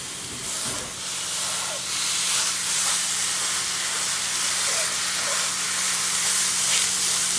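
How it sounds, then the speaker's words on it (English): Crumbled Italian sausage meat browning in a hot pan, giving a loud, steady, close hiss and sizzle that runs unbroken throughout with faint crackles on top. "I don't know if you can hear me over the hiss and sizzle of the meat"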